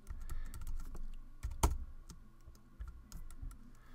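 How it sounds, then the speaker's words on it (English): Fingers tap out a word on a computer keyboard, a quiet, close sequence of irregular clicks with one sharper keystroke near the middle, no talk. "And I'm going to type in the word assassins."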